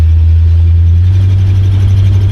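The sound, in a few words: 1968 Cadillac DeVille engine running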